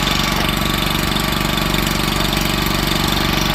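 A small Hangkai 6HP four-stroke outboard motor runs steadily at a fast idle after its first start, its even mechanical chugging close and continuous, with no talking.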